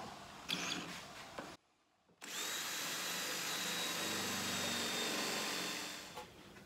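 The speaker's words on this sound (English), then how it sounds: "I'm going to drill a hole that is square to the face of the top" Power drill boring a hole square into the face of a wooden top, a steady loud whirring drone after a brief pause, running continuously for several seconds before winding down.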